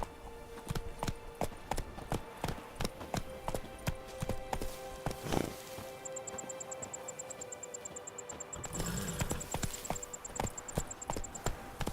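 The horse Roach trots in the Witcher 3 video game, hooves clip-clopping in a quick, regular rhythm close by, with a short thinner stretch in the middle before the steady beat resumes.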